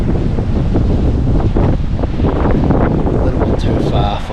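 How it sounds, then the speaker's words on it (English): Strong, cold wind rushes down a mountain valley in South Canterbury, roaring and buffeting the microphone loudly and without a break. "That wind's freezing. It's coming down the valley."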